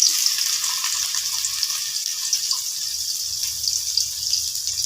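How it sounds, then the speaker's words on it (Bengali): Soybean chunks fry in mustard oil in a pan, making a steady close hiss and crackling sizzle that runs throughout without speech. "এরপরে আমি সয়াবিনটাকে তেলে ভালো করে ভেজে নেব।"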